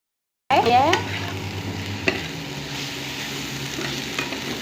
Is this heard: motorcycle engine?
no